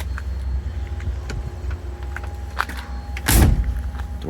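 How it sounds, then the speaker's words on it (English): A single heavy, solid thud of a 1951 Ford Victoria's door shutting, close and firm, over a steady low outdoor rumble with a little faint background noise. "Doors shut like a vault"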